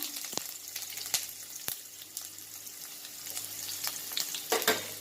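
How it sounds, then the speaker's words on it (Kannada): Onion fries in hot oil with mustard seeds, dried red chillies and curry leaves for hotel-style sambar, giving a continuous crackling sizzle broken by a few sharp clicks and spoon stirs against the pan, close and without talk. "ಆನಿಯನ್ ಸ್ವಲ್ಪ ಹೊತ್ತು ಫ್ರೈ ಮಾಡ್ಕೊಳ್ಳಿ"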